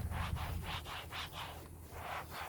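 A towel rubs Turtle Wax Mist interior detailer across a car surface, a quiet rhythmic back-and-forth swishing of several strokes, close and soft with no voices.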